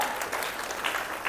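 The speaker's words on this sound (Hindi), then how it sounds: "तालियां बजा" An audience claps together in a continuous burst of applause, close and even throughout, with no talking.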